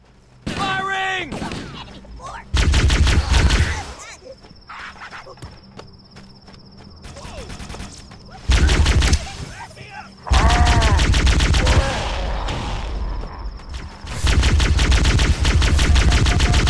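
Bursts of automatic gunfire in Halo: Combat Evolved, several loud sustained volleys separated by quieter stretches of in-game ambience and shouted voices.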